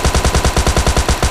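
Rapid automatic gunfire from PUBG Mobile Lite, a loud, steady stream of evenly spaced shots of about fourteen rounds in just over a second, with no talk over it.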